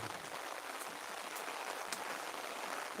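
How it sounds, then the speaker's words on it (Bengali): Soft, steady rainfall patters evenly throughout, fairly quiet, with a few sharper drops ticking now and then. "বৃষ্টি পড়ছে দেখুন বন্ধুগণ"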